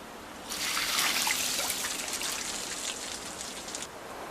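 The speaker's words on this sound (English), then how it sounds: "ice farmers repeatedly douse specially designed wood racks with water" Water doused over specially designed wooden racks to grow ice in the cold, a soft pouring, trickling splash that starts after a moment and continues steadily at low volume.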